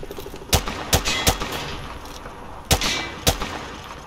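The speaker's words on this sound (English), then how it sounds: "Grab that weapon off the table and fire at the targets behind you." Gunfire at range targets in Call of Duty Modern Warfare 2 Remastered: sharp, loud single shots and short bursts, about seven cracks spaced irregularly over a few seconds, with faint room tone between them and no talk.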